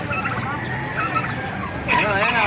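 Chickens, including Rhode Island Reds, and turkeys cluck and honk amid a busy crowd, with a person talking over the birds in a noisy animal market in Baliuag.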